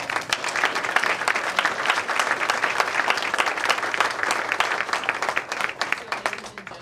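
Dense, steady applause from a large crowd at a political candidacy launch event in Camden County, sustained and loud throughout with no pauses.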